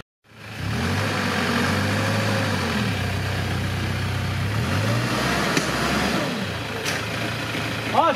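An off-road Troller T4 or Jeep Wrangler JK engine runs close by on an extreme eroded mud trail, holding a loud steady drone and climbing in pitch as it revs near the end, with voices in the background.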